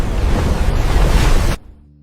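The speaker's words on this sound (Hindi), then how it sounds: "समुद्र उफान पर है।" Heavy ocean surf surges loud and broad, a continuous roaring wash with wind noise that cuts off abruptly near the end, leaving near silence.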